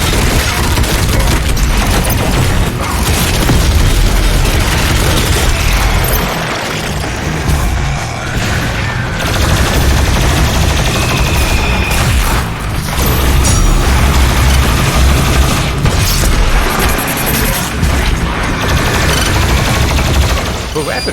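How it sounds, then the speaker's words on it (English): Rapid plasma rifle fire in DOOM Eternal pours out in a dense, loud stream, layered with booming explosions, mechanical clanks and heavy combat din throughout. "For a rapid-fire weapon, the plasma rifle is quite nice."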